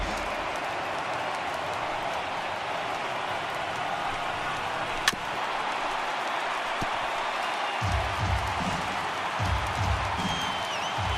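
Stadium crowd of thousands in the MLB The Show 18 video game, a steady roar of cheering and applause throughout, near and loud, with a sharp crack partway through.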